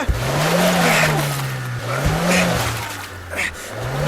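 A car's engine revs and surges while it is push-started, rising and falling in a steady drone. Tire noise and brief voices come through faintly underneath.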